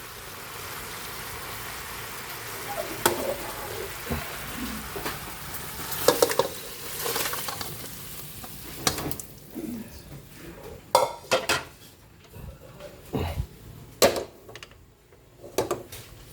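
Sautéing aromatics in a hot pan for ginataang tilapia, with sizzling and scattered clinks and scrapes of a utensil stirring against metal throughout.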